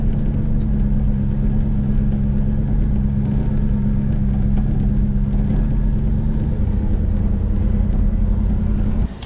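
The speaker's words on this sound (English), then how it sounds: "unloading an old truck" An old truck's engine idles with a steady low rumble throughout while it is unloaded at a sawmill, fairly loud and close, with no voices.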